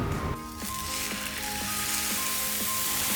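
Pork chops searing in a hot oiled pan, a loud, steady sizzle with crackling spatter throughout, close up and alone.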